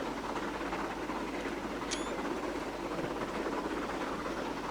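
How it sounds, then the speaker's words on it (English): Steady broadband rumble of a train rolling across a railway bridge on the Settle to Carlisle line, even and continuous at moderate distance, with one brief high squeal partway through and no talking. "Trains on a bridge."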